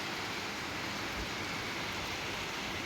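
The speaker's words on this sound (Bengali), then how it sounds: "দাদা বৃষ্টি পড়ছে" Rain falling, heard as a steady, even hiss of downpour at low level with no voices, unchanging for a few seconds.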